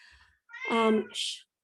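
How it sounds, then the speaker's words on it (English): A house cat meows once in a room, a drawn-out, close and fairly loud cry followed by a short higher squeak, coming after a faint voice. "Sorry, that's my cat."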